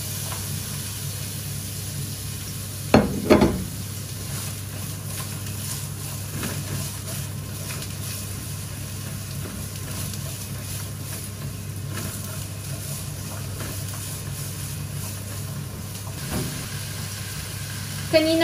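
Onion sautéing in a pan for ginataang manok makes a continuous, even hiss of sizzling oil, with a couple of brief utensil knocks and no talking over it.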